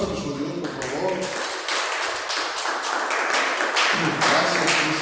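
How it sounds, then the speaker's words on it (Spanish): A church congregation gives loud, sustained applause to God, steady dense clapping throughout with voices heard faintly under it. "Vamos a dar un fuerte aplauso a nuestro Dios, por favor."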